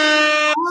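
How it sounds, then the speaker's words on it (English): A loud, sustained air horn sound effect blasts as one steady, harmonically rich tone for about half a second, then bends briefly as it cuts off, with no talk over it. "And then I do sound effects, air horns."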